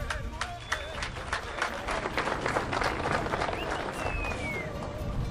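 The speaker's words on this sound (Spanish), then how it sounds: "¡Un fuerte aplauso!" Audience applause at an official handover of 48 homes to families in a Tarija municipality, with steady clapping and crowd noise filling the space and voices calling out over it throughout.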